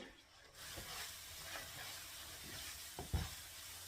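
Mustard masala for hilsa fish being stir-fried, a soft sizzle under quiet scraping strokes of a spatula, faint overall with a sharper knock near the end.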